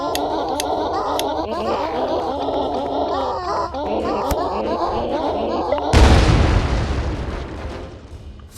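In the video game Bogos Binted, a burbling, gargly game noise plays with laughter, then a sudden loud explosion bursts out and rumbles off into a fading roar.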